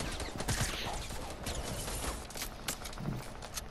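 Gunfire in Fortnite: a rapid string of sharp shots and clattering mechanical clicks, close and fairly loud, with uneven bursts and brief pauses throughout.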